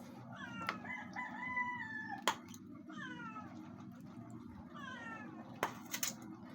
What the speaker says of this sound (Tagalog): siguro yung mga pusa, nakakaamoy na po sila ng langsa. Kaya iyan. Umiiyak po.